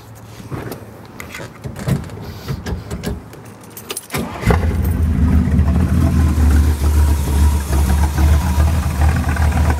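Keys jingle and rattle, then a 1966 Corvette Coupe's big block engine cranks and roars to life, settling into a loud, deep, steady rumbling idle.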